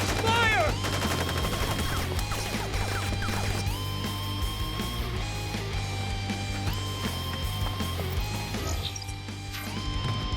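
Rapid automatic gunfire and crashing impacts rattle on in the action game Crisis Core Final Fantasy 7 Reunion, over a sustained music score with brief in-game voices.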